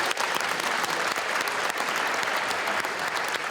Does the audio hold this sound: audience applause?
yes